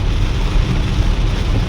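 Water sprays up on both sides of a Volkswagen car driving through a flooded road, a loud, continuous rushing wash mixed with low road and engine rumble, with no voices.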